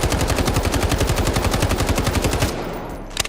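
AR rifle firing in the video game Delta Force, a loud, rapid automatic burst of evenly spaced shots lasting about two and a half seconds, then stopping, followed by a brief faint clatter.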